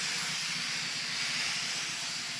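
A Shark Pro steam pocket mop steaming a concrete floor gives a steady, loud, continuous hiss of steam with a faint low rumble of the motor underneath, unbroken throughout and without talk.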